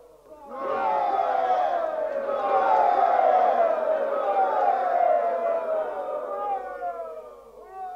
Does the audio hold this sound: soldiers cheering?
yes